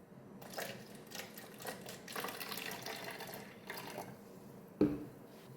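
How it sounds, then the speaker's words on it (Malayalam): Water poured into a bottle holding vinegar, a soft trickling gurgle that runs for a few seconds, then a sharp knock near the end. "വെള്ളം ഒഴിച്ചു കൊടുക്കുക"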